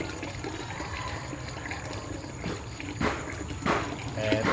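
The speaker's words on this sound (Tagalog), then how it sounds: "So habang tumutulo po yung gripo, ayan, ay nahalo na po niya yung tubig" Water from a faucet dripping and trickling into a container while a hydroponic nutrient solution is mixed, a steady wet patter with a few louder splashes near the end.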